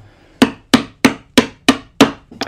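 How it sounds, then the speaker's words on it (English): Six or seven sharp, evenly spaced strikes on a chisel as a hand-cut woodworking dovetail is chopped, each a loud, close knock with a quick decay, fading into a softer cluster of taps at the end. "I'm gonna tilt my chisel back towards me, just slightly, to where I get an undercut."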